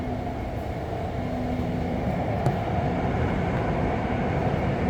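An REM light rail train runs near Central Station in Montreal, producing a loud, steady rumbling roar with a faint whine, continuous throughout and heard from inside the car.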